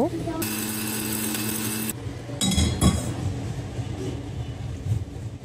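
A kitchen blender grinding dry coconut and spices whines with a steady motor tone for a short burst, followed by clattering and clinking up close.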